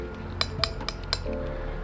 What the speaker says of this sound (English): it's got a little plastic spray and a glass bottle